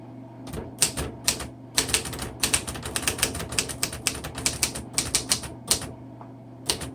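Rapid bursts of key strikes on a 1952 Royal Quiet Deluxe vintage manual typewriter, close and crisp, with uneven rhythm and short pauses between clusters of clacks over a faint low hum.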